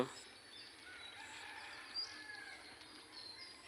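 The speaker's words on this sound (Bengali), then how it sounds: "মোরগের ডাক" A rooster crows faintly in the distance on a quiet morning, a short call rising over soft outdoor background noise.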